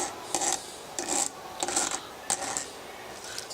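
A gas chainsaw chain is sharpened with a file-type sharpener, giving a close series of short rasping strokes, each about a quarter to half a second long, in an irregular rhythm with brief gaps between strokes and no talking.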